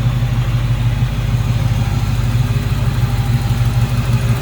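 A 1937 Chevrolet Master Deluxe street rod idles steadily with its hood open, a smooth, even engine rumble running close and constant without revving or talk.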